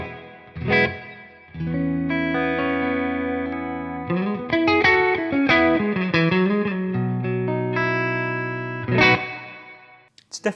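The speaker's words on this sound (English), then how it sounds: "it's more of a smooth plate, almost like a studio kind of sounding reverb" Distorted electric guitar through a Bad Cat Hot Cat 50 amp plays sustained chords and melodic runs, each note trailing into a smooth, studio-like plate reverb tail, with plucked string attacks near the end.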